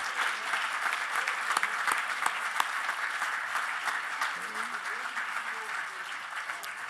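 Audience applause at a salute to Jewish educators, a sustained wash of many people clapping steadily at moderate distance, with faint voices murmuring underneath.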